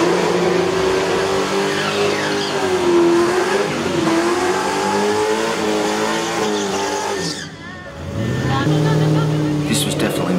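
Loud drag race cars, including an LS2-powered yellow Holden VK, roar and accelerate down the strip, engine tones rising across the run before a brief dip and another surge; voices are present.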